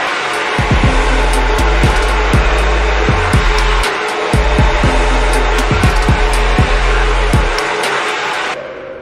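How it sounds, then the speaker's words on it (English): A hairdryer fitted with a diffuser blows steadily while drying curly hair, a loud continuous whooshing roar close up, broken by repeated brief dropouts and thumps as it is moved and flicked, before cutting off near the end. "What I've got here is my hairdryer, and I've got the diffuser."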